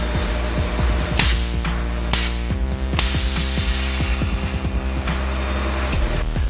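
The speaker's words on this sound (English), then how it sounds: "the valve opens and closes pretty much instantly, even at 30 psi boost" A GFB DV+ diverter valve on a boosted engine snaps open and shut in rapid bursts, loud hissing whooshes of released air over a steady mechanical drone, repeated several times with no talk.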